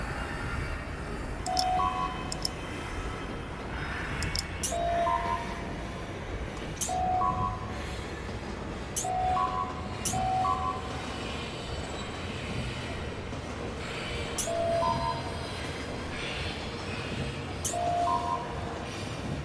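A train rides along the tracks in the video game Lucah, a quiet steady rumble with faint repeating tonal chimes and occasional clicks at regular intervals, with no voices.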